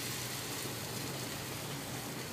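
Medu vada (urad dal fritters) frying in hot oil, a steady dense sizzling crackle that fills the whole stretch evenly, close and fairly loud with no talk over it.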